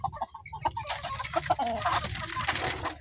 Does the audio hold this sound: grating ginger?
no